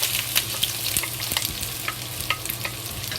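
Onion frying in hot vegetable oil in a pot, a steady close sizzle with occasional crackles and stirring scrapes, no talking.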